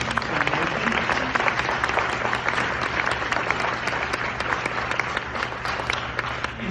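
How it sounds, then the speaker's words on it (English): At the Oregon Historical Society celebration, a room of people claps for the Sam Johnson Foundation, thick and close applause that stays steady over a low constant hum. "round of applause for the Sam Johnson Foundation"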